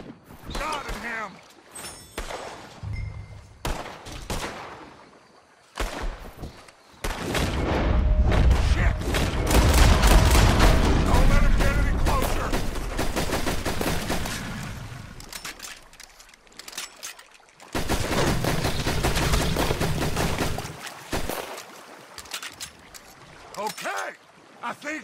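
Heavy gunfire erupts in Red Dead Redemption 2 as a group fires everything they have at a creature, loud bursts and booms in sustained volleys with shouting voices and pauses between.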